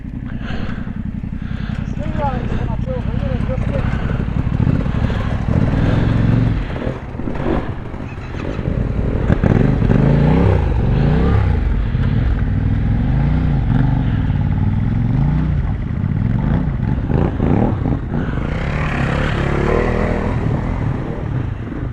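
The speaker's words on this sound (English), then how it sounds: "How much lighter work these lightweight enduro bikes make of this." A group of lightweight enduro motorcycles rides along a rough Dales track called Goats Road, engines droning and revving as they pass close by, with rattling clatter and wind noise mixed with a rider's commentary.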